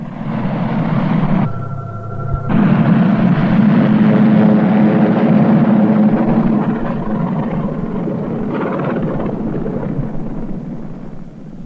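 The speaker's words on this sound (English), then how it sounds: "the only way to get to work quickly is by helicopter, by whirlybird" A helicopter flies out to an offshore oil well far at sea, its rotor and engine giving a continuous loud droning roar with a steady tonal hum throughout.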